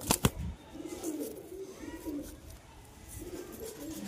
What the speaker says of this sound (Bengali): একটি নর কবুতর।